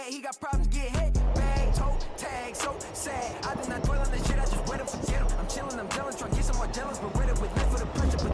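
An MN82 Toyota Land Cruiser RC crawler grinds over rough terrain, its small motor whining and gears buzzing in short bursts alongside scraping and knocking of tires on rocks, close and continuous with a voice talking briefly.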